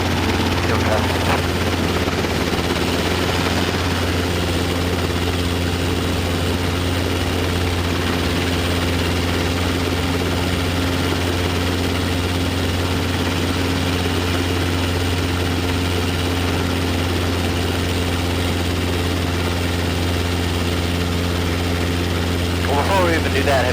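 Steady, loud rotor and engine drone of a Robinson R22 training helicopter taxiing to the runway, continuous and close, with intercom voices talking over it.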